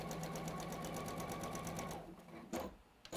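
A sewing machine stitches a very short seam joining fabric strips, a fast even whirr for about two seconds that then stops, followed by faint handling noises.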